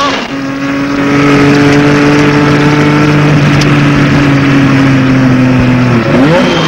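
A Renault Alpine A442B race car, recorded onboard, accelerates hard toward a fast curve. The engine drones loud and close with steady rising harmonics and a roaring, wind-buffeted texture, then a brief shift-like change near the end.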